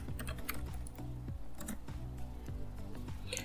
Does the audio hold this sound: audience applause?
no